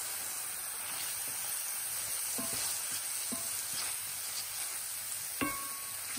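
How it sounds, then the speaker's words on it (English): Onions stirred in a frying pan while cooking for a vegan mushroom and chickpea stroganoff give a quiet, steady sizzle broken by occasional scrapes and taps of a spoon, with a sharper knock near the end. "just keep stirring that for a couple of minutes"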